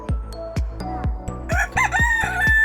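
A chicken at a zoo in Saarburg, Germany, crowing close by in a run of repeated rhythmic calls, with no talk over it.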